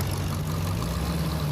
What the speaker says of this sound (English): Their engines, rumbling for a reason far greater than speed.